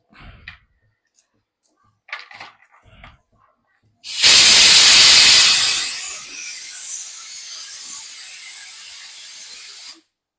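A kitchen pressure cooker, cooking sambar, lets out a sudden loud steam whistle that hisses strongly, then settles into a steady softer hiss for about six seconds before stopping abruptly, after a few faint clicks and handling sounds.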